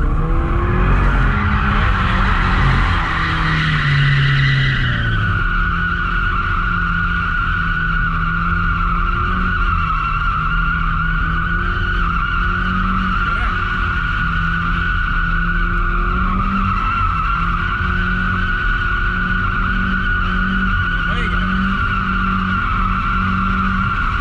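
A car drifting at speed on a track, its tyres squealing in one long, continuous, loud skid over a steady engine roar, with a brief higher whine near the start.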